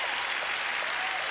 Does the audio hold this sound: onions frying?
no